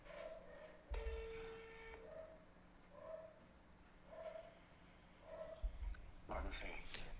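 An outgoing phone call on speakerphone gives a steady series of ringback tones, repeating at intervals of roughly one second, faint and tinny with a quiet room behind them. One louder electronic beep comes near the start.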